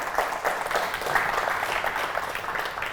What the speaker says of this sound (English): can we have a round of applause for Alex Louey?